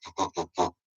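Children imitate a pig with four quick, nasal oinking grunts in a row, then the start of a fifth, close and clear.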